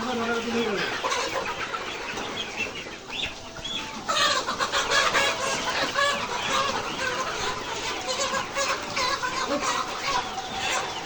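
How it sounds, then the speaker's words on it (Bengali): Layer chickens cluck and squawk loudly in a rapid, agitated jumble while being caught on a farm, with a flurry of close bird cries and people talking underneath. "আমাদের মুরগি ধরার কাজ চলতেছে।"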